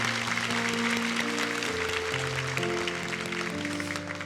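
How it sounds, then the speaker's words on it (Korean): Church congregation at a special early-morning revival service clapping for the pastor, a soft, steady patter of applause beneath sustained organ or keyboard chords. "임영규 목사님께 다시 한번 감사와 사랑의 박수 드리겠습니다"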